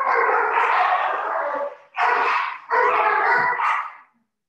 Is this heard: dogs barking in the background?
yes